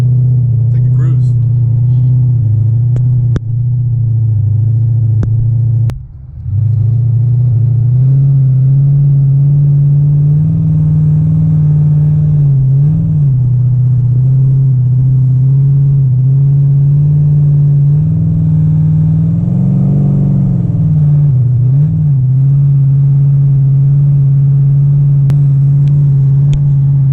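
Chevrolet C6 Corvette engine while cruising on the road, a steady low droning hum inside the car with slight swells in pitch as speed shifts, constant and fairly loud throughout.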